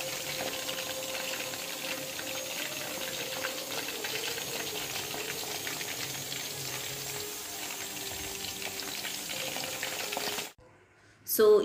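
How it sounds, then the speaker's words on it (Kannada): Masala-coated anjal kingfish deep frying in hot oil, a dense continuous bubbling sizzle heard close and steady for about ten seconds before dropping out abruptly, then a brief louder burst at the end. "ಮಸಾಲೆ ಎಲ್ಲ ಹಾಕಿ ಹೋಗಿದೆ ಅಂಜಲ್ ಫಿಶ್ಗೆ, ಸೊ ಇವಾಗ ಡೀಪ್ ಫ್ರೈ ಮಾಡ್ಕೊಳ್ತಾ ಇರೋದು"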